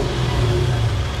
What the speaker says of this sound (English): Just pop the same neutral at the robot, give it a rev.